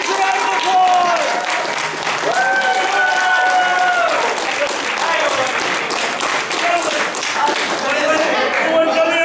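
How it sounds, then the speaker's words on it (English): An audience at a furry convention improv show applauds its performers, loud continuous clapping mixed with cheers and whoops from the crowd. "Guys, let's give our performers a round of applause!"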